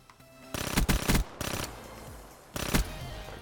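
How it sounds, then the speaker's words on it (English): Video game gunfire in a free-for-all shooter match, with rapid automatic bursts in several close, loud volleys separated by brief pauses. "Keep hearing shots go off"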